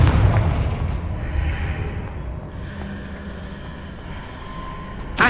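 A Confringo spell explosion in Hogwarts Legacy opens with a heavy boom that fades into a long, low rumble. A sharp crack follows at the very end.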